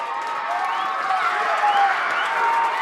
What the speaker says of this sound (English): Crowd go wild.